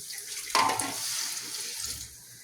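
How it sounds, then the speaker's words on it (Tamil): Tap water runs steadily into a sink while a coconut is rinsed, a close, continuous splashing rush with a brief sharper splash near the start, lasting a couple of seconds before easing off. "இப்போ தேங்காய் கழுவ போகிறோம். டக்குன்னு கழுவுங்க."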